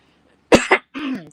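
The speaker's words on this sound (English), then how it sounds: "excuse me while I cough" A person coughs twice in quick succession, loud and close, then gives a short rougher throat-clearing cough, with quiet pauses around them.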